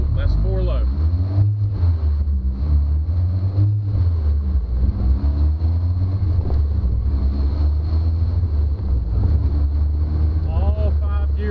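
Cheap old Jeep crawling along in four-wheel drive low, a steady low engine and drivetrain drone with wind buffeting the microphone, while someone talks over it.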